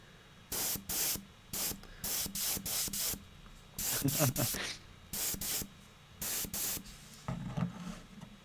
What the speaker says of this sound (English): Time to swap out or clean the old airbrush and let that dry for a minute